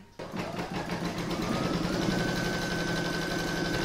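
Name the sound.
sewing machine stitching quilting around frame edge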